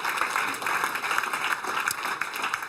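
Loud, sustained clapping from an audience after a season teaser screening, a thick, continuous wash of many hands with a few sharper individual claps poking through.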